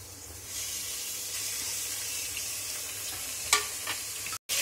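Meat dropped into a pan of browned sliced onions fries with a steady, close broadband sizzle, a couple of brief spitting bursts near the end before a short cut, no voices.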